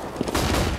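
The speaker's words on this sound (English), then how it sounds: "Throwing a flashbang." Flashbang grenade going off in the game CS GO, a short dense burst of noisy, loud blast-like sound lasting under a second, with no talk over it.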